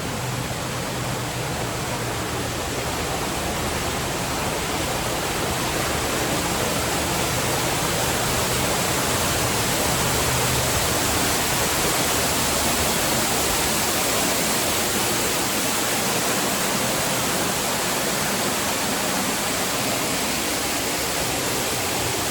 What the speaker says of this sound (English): So we have just come down a cascade here in Swildon.